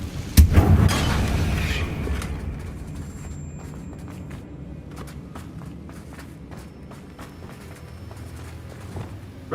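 Confringo blasting spell in the Hogwarts Legacy video game: a loud, near explosive burst at the start, then a fading rumble and scattered debris-like clatter that trails off over several seconds.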